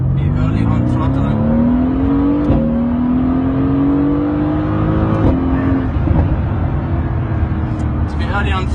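Mercedes-AMG GT race car accelerating hard on a track toward a long straight, engine note climbing steadily through the gears with sharp upshift breaks, loud and close, with commentary over it.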